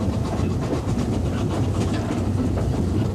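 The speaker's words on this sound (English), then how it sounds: "A number 2857, on a return working, rolls into the station on its way to Kidderminster." Steam locomotive number 2857 rolling into Hampton Loade station on a heritage line, a loud, steady rumble of wheels and carriages with faint clattering rhythm, close by and continuous.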